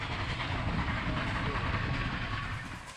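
The Durango and Silverton coal-fired steam train rumbles along with a low, steady roar and faint rhythmic clatter of wheels on track, heard from aboard, fairly quiet and continuous for a few seconds.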